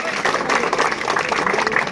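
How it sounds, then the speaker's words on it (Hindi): Villagers at a civic welcome ceremony in Balwantpura applaud the BJP assembly candidate Vikram Singh Jakhal, a brief, close, dense burst of clapping that stays at an even loudness. "एक बार ताली बजा करके इनका स्वागत करें"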